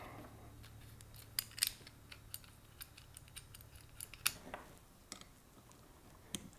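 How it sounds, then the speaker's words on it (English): Small screws fitted with brass washers are driven back into a bow sight housing, producing faint, scattered metallic clicks and ticks against a quiet background. "grab your screws with the brass washers, and screw them back in"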